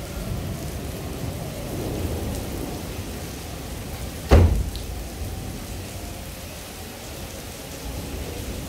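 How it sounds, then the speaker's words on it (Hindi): Steady rain pours down with a constant hiss, broken midway by a sharp close crack of thunder that fades quickly. "अब तेज बारिश हुई है, बहुत तेज।"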